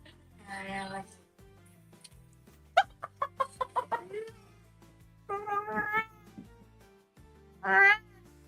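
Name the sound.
person imitating cat meows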